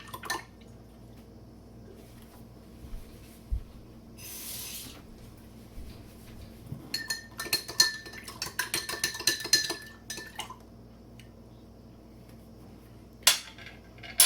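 Ingredients are stirred into a homebrew kettle, with metallic clinks and scraping knocks against the pot coming in an irregular burst of stirring, plus a few sprayed splashes.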